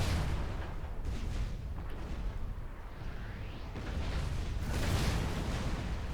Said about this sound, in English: Those rockets, man.